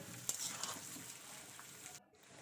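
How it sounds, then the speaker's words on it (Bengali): Potato pieces fry in hot oil in a pan, giving a soft, steady sizzle with a few sharper crackles before it drops away near the end. "আলুটা আমি তেলের মধ্যে ভালো করে ভাজা করে নেবো"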